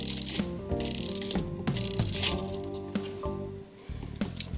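A clamp is tightened during repair of an antique American Seth Thomas clock, giving steady ratcheting mechanical clicks and grinding that run loud and close for the whole stretch.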